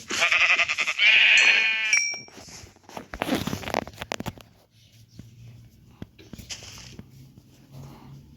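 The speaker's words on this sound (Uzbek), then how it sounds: "Oq qo'y ham topdik." Sheep bleating in a village flock: two or three loud, close wavering bleats early on, then scattered shuffling, footsteps and quieter animal noises, with faint voices in the background.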